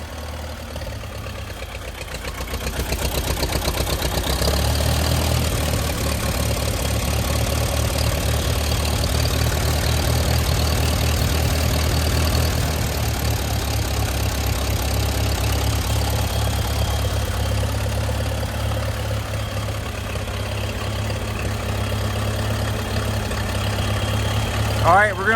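A frozen 1954 Case SC tractor engine idles after a cold start, a loud steady low rumble that holds for the whole stretch after catching in the first few seconds.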